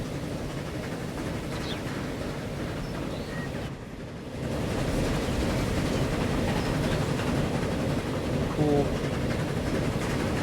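A train in the video game Transport Fever 2 rumbles along steadily with a dense, noisy roar, briefly dipping quieter before swelling again; no voices.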